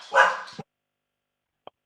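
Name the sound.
dogs barking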